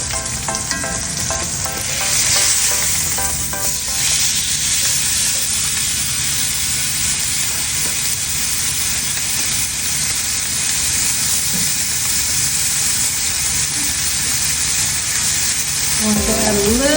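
A T-bone steak sizzles in olive oil and unsalted butter in a cast iron skillet, a loud, steady, close frying hiss that holds unbroken throughout.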